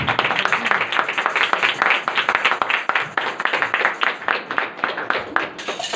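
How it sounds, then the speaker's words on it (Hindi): A church congregation claps loudly during a Hindi-language service, a dense, close round of applause with a pulsing rhythm that continues without a break. "जोरदार तालियों"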